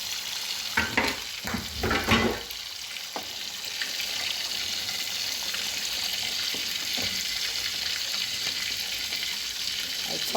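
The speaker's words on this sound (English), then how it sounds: "frying the fish and checking up on my stew" Steady, close sizzling of fish frying in a pan, with a few stirring clatters near the start before the hiss settles into a constant crackle.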